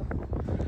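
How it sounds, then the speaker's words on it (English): Wind buffeting an outdoor microphone in a brief, rough low rumble, loud and close, with no other clear sound over it. "Why is it so windy?"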